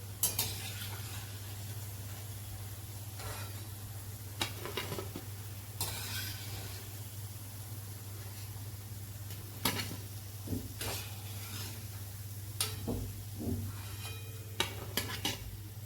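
Methi gota, or fenugreek fritters, fry in hot oil with a soft continuous sizzle under a low steady hum, broken by sharp clinks and scrapes of utensils against the pan; nobody talks.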